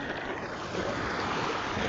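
A boat moves across open water, its broadband wash and churning waves mixed with wind, steady and close for the whole stretch.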